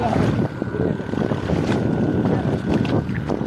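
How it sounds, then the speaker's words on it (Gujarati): A steady low tractor engine drone runs continuously at night, mixed with gusty wind rumbling across the microphone. "ટ્રેક્ટર ચાલુ જ છે."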